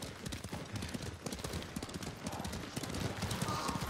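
Horse hooves clip-clopping in the video game Ghost of Tsushima, a steady rapid patter of hoofbeats close by over a dense bed of ambient game noise, with no talk.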